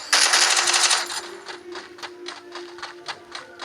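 Gunfire in the mobile shooter Free Fire, a dense burst of rapid shots followed by quieter scattered cracks, with no speech over it.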